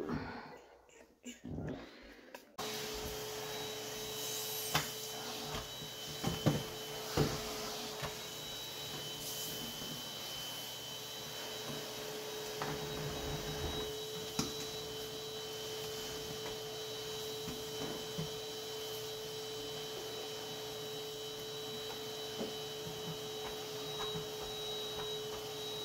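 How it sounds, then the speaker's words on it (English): A vacuum cleaner runs steadily during house cleaning after a few seconds of handling noise, a loud continuous motor drone with a tonal whine, interrupted by occasional knocks and bumps as it moves around the room. "Clean and ready to vacuum."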